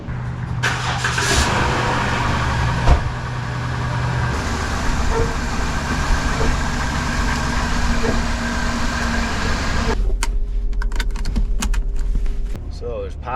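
A minivan on a test drive after its lower control arm bushings were replaced, with steady road and engine noise throughout and a sharp bump near the three-second mark; the cabin sound changes and grows quieter around ten seconds. Voices are present.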